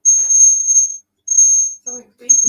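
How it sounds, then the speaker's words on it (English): Repeated high-pitched electronic beeping from an alarm in a room, several long tones separated by short gaps, with brief bits of speech between the beeps. "Something beeping."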